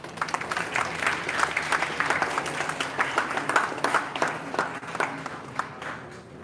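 Applause from an academic conference audience during a felicitation, a moderate scatter of individual claps that swells and thins unevenly, somewhat distant, with no speech over it.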